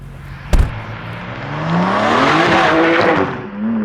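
A 2022 BMW M2 CS launches from a stop: a sharp thump, then the engine revs climbing hard through the gear with a rising roar, close and loud, and a brief shift near the end.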